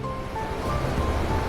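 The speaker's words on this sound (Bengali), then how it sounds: "ঝর্ণাটা যাচ্ছে আর এর আওয়াজ শুনতে পাচ্ছেন?" A mountain waterfall in the Baspa Valley sends out a steady broad roar of rushing water, fairly close and unbroken, with no voices.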